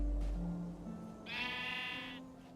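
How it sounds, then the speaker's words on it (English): One sheep in Minecraft gives a single clear, wavering bleat of about a second, close and distinct over a quiet background of soft low game tones, with no voices present. "A sheep."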